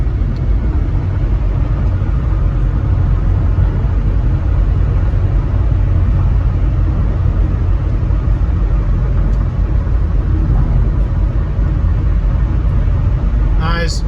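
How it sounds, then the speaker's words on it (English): A car drives along a road around Key West, with a continuous low rumble of engine and tires heard from inside the cabin, loud and unbroken. "Nice day for a long drive."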